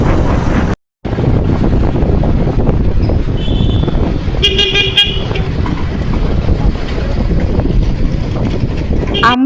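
A motorbike heading out toward a village market: heavy wind buffeting and road rumble fill the ride, broken by a brief dropout, with a couple of short horn-like tones and a voice faintly underneath.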